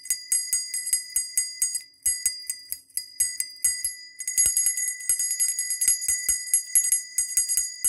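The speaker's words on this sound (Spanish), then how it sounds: "escuchando el sonido de esta campana" A small bright bell rings in rapid repeated tinkling strokes, close and clear, with short pauses between runs of ringing.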